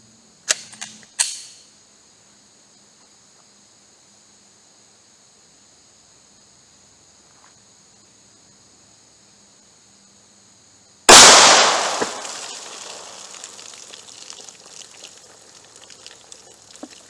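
A .45 ACP pistol fires a 230-grain full metal jacket ball round into jugs of water: two small sharp clicks early, a long quiet stretch, then one loud gunshot crack with a splashing, decaying tail.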